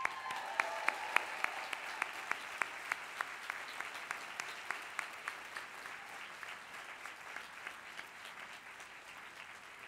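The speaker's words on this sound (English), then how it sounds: "you deserve your own round of applause." Applause for family members, friends and supporters at a Harvard public health school convocation, a broad, fairly distant wash of clapping from a large audience with sharp individual claps, slowly fading over several seconds.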